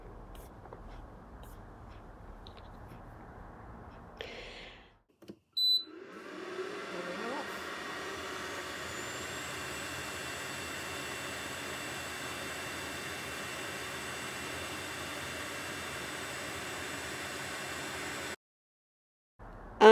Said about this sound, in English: I've got the metal cutting prism in place, and I'm cutting the shape out of cardboard